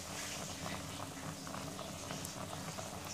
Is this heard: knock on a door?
no